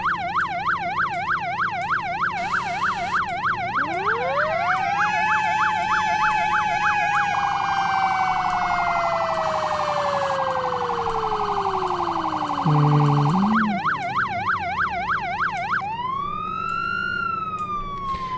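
Police sirens in the Flashing Lights game cycling through several tones: a fast yelp, then long rising and falling wails, a brief low honk, and a return to the yelp, loud and continuous, with a short murmur from a voice.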